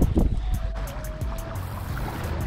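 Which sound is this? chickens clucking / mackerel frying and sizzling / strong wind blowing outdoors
strong wind blowing outdoors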